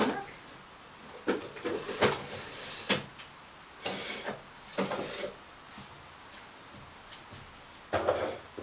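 A makeup storage drawer holding blushes is handled, giving several soft separate knocks and slides spread out over the stretch, fairly close but low in level, with no talking.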